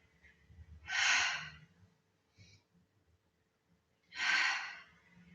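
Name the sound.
breathing out during Pilates leg exercise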